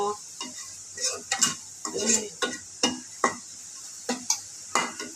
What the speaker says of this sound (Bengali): এই যে আমি পেঁয়াজটা ভেজে নিলাম।